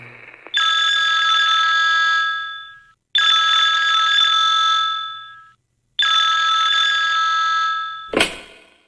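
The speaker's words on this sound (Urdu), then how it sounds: "جب مجھے فون کی گھنٹی بجتی ہوئی محسوس ہوئی" A telephone bell rings on a dark, snowy winter night: three loud, sustained electronic rings, each about two seconds long with short gaps between, followed by a brief clatter like the receiver being picked up.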